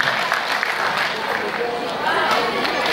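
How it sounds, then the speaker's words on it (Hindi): Loud, dense audience applause rolls through a hall during an award ceremony at Kala Mandir in Bhilai, continuous clapping from a large crowd with voices mixed in. "सर के लिए जोरदार तालियां और मैम के लिए जोरदार तालियां।"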